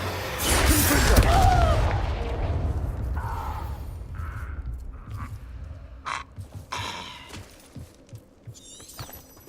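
Confringo blast spell in a Harry Potter video game: a loud shattering explosion with deep boom in the first two seconds, decaying into quieter scattered clinks, whooshes and short magical bursts.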